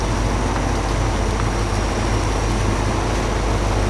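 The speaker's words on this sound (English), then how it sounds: "It sounds like a Scania V8" A deep-sounding logging truck, likened to a Scania V8, drones steadily in the MudRunner game, its engine rumbling with constant road-like noise and no pauses.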